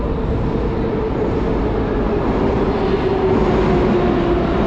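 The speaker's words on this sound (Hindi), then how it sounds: "तो ये देखिए पुराने ज़माने की मेट्रो आती हुई।" An old metro train in Uzbekistan rumbles steadily into a station, a continuous low roar with a faint whine running through it, loud and close.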